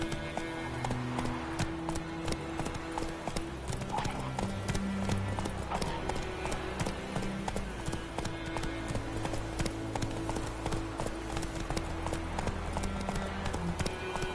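Hooves of Roach, a horse in The Witcher 3 video game, clip-clopping in a steady rapid rhythm throughout, close and clear over a low ambient bed, with occasional faint voice.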